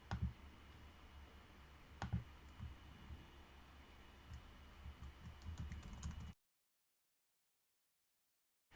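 Light, sparse keystrokes and clicks on a computer keyboard while building a Google Form, soft and close over a low hum, ending in sudden silence.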